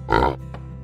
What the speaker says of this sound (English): Pig, pig says.